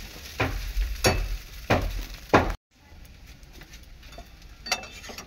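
Chow mein sizzles and fries in a pan, with about five loud, regular stirring strokes over steady sizzling before a brief gap, then softer frying with occasional stirs.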